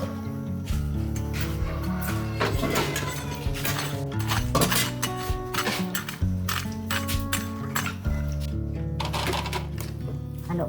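A cooking pot of cabbage soup being stirred, with a metal utensil scraping and clinking against the pot in a steady, close, continuous clatter over a sustained tonal background.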